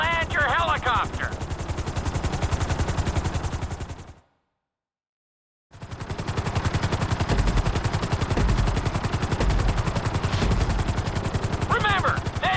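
A helicopter in Grand Theft Auto V throbs with a fast, loud rotor chop during a flight course, cutting out to silence for a moment before resuming at full volume, with faint other game sounds.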